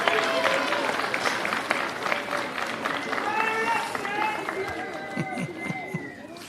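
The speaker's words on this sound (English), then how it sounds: "turn around and applaud your parents, your families, and friends who have supported you through the years" Graduates at a fall university commencement turn and applaud their families, a sustained crowd applause of many hands in a large hall that gradually thins out, with cheers and chatter mixed in.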